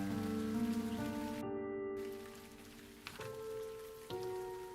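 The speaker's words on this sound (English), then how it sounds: "The rain just won't stop." Rain falls steadily in the Shanghai Summer video game, a soft, even wash with sustained music tones on top and a brief break in the middle.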